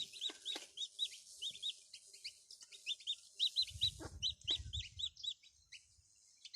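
A mother hen clucks to her chicks while pecking at bits of corn, giving soft repeated clucks among a steady run of high, quick chirps from the chicks, with a brief low rumble partway through.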